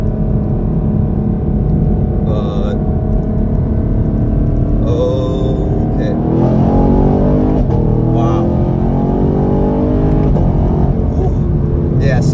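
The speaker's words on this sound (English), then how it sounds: "And that exhaust sounds absolutely fantastic." A 2021 Chevrolet Camaro LT1's exhaust roars loudly as the engine revs up and down repeatedly, close by, with a deep rumble throughout.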